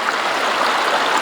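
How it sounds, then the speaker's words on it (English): Water rushes steadily through a small 3D-printed gold-prospecting sluice, a loud, even splashing flow heard up close for a brief moment with no other sounds. "test out my little 3D printed sluice"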